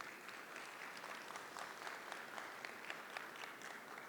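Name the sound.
audience applause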